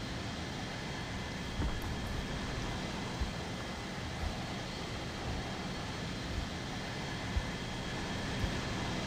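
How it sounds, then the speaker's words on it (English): A bomber's engines drone steadily in War Thunder Mobile, a constant loud rumbling hum with occasional faint thumps beneath it. "Let's see if I manage to do anything with the revenge bomber."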